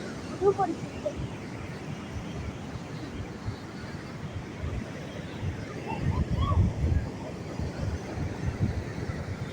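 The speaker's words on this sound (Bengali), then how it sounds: "এখনকার ঢেউটা অনেক জোরে আসতেছে" Ocean surf at a seashore rumbles and crashes under wind buffeting the microphone, with a bigger wave surging louder midway; people's voices are faintly heard.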